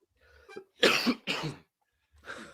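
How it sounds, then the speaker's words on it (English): A few sharp, loud coughs land close to the microphone, with a short pause before a final softer cough. "I think you coughed directly into the microphone there."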